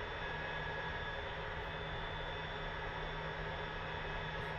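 An Albatros L-39 jet engine runs in the DCS flight simulator, a steady loud whine and roar holding constant throughout with no variation.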